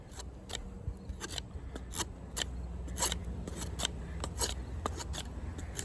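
A Condor heavy duty kukri blade shaves hair in a sharpness test, producing a close series of crisp, snipping crackles in irregular quick bursts, alone without talk.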